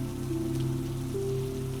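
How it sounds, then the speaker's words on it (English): Steady fine rain on the window glass of a night sleeper train, a soft continuous patter over a low rumbling hum. "the rain had settled into a finer, steadier thing, less like weather now, and more like texture, a continuous softness applied to the glass"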